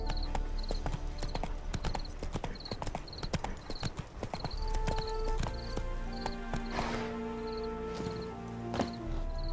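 Horse hooves galloping in the video game The Witcher 3, a quick steady clip-clop rhythm, close and clear, with a brief whinny and game sounds mixed in.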